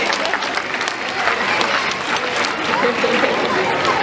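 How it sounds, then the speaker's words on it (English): An audience at a seal show at Taronga Zoo in Sydney claps in a steady, dense round of applause, close and sustained throughout with crowd murmur mixed in. "Big round of applause for our buddy volunteer."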